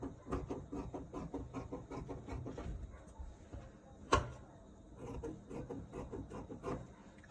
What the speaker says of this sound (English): I'm just going to be trimming this off like so.